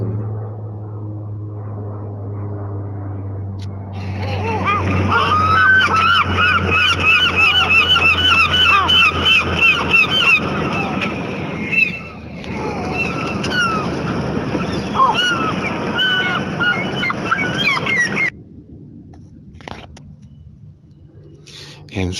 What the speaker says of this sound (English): Doesn't that seagull sound a little bit like a baby?